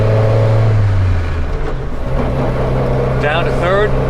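A 1953 Citroen Traction Avant's engine revs up in second gear, a loud, steady drone rising in pitch, with a voice talking over it near the end.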